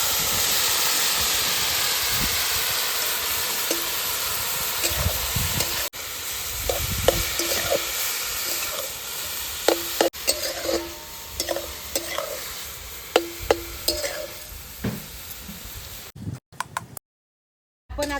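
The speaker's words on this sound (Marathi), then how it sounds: "असा किस मऊ होईपर्यंत छानपैकी तुपावर परतून घ्यायचं आहे" Grated bottle gourd sautéing in ghee for halwa gives a steady loud sizzle and hiss, with scraping spoon strokes clustering in the second half before a brief drop to near silence at the end.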